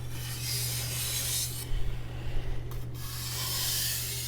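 Soft edge-leading passes of a CCK Chinese cleaver across a sharpening stone, a steady close hiss of steel rubbing the stone with a few slightly louder strokes in the middle, no voices.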